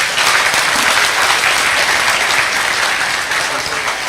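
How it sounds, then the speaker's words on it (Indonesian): Audience applause during an Islamic study gathering in Indonesia, a dense, loud, sustained clapping from a large crowd that fills the whole stretch without letting up. "tepuk tangan untuk Allah Subhanahu wa taala"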